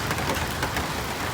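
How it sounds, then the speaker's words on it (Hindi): Heavy rain, with hail starting to fall, pours in a constant dense hiss during an outing. The sound is close and uniform, and a faint low rumble sits underneath. "अभी और तेज होगी बारिश, और तेज होगी।"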